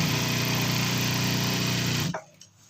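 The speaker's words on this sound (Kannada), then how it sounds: "ಎಮ್ಮಿಂಗ್ ಮಾಡೋದಕ್ಕೆ ಫಸ್ಟು ದೊಡ್ಡ ಸ್ಟಿಚ್ ಇಟ್ಕೊಂಡು ಪಕ್ಕದಲ್ಲಿ ದೊಡ್ಡ ಸ್ಟಿಚ್ ಹಾಕ್ಕೊಳ್ಬೇಕಾಗುತ್ತೆ" A sewing machine runs steadily while stitching a hem with large temporary stitches, its continuous close mechanical whir holding for about two seconds before it abruptly stops, leaving near-quiet.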